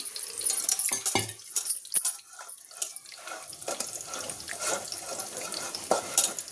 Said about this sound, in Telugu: ఇలా ఒక స్టైనర్లో వేసుకునేసి బాగా మెత్తగా అంతా పిసుక్కునేస్తాం